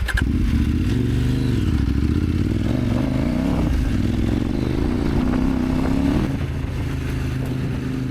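A CFMOTO 800MTX adventure motorcycle running steadily after a stall, with a loud, continuous engine drone and some clattering mechanical noise, close to the rider and with no talking.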